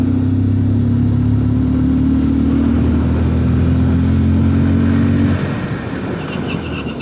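A TVS Apache RTR 160 or Bajaj Pulsar 150 motorcycle engine roars loudly nearby, revving and accelerating from 0 to 60 for a brake test with a steady rising drone before easing off near the end.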